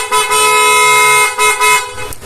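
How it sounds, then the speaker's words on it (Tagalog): A motorcycle's dual stock horn honks loud and close in several sustained blasts with short breaks between them, with no talking over it. "meron din dual horn, stock horn"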